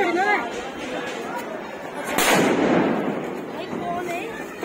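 Anar flower-pot firecracker burning at a Diwali celebration, a steady hissing, crackling spray that swells loudly midway, with people chattering around it throughout.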